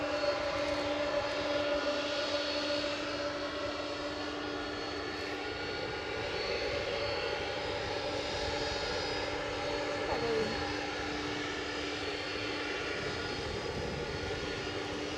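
A Ryanair jet airliner takes off at Edinburgh Airport with a continuous loud roar and whine that holds steady across the whole stretch, while people talk faintly nearby.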